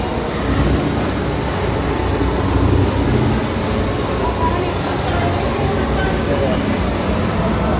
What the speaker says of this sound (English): we're going to get on the train